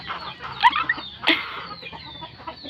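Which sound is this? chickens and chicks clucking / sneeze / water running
chickens and chicks clucking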